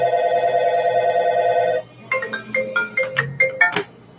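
A phone rings with an incoming scam call: a steady electronic tone first, then a quick melodic ringtone pattern of bright repeated beeps, close and clear with no talking.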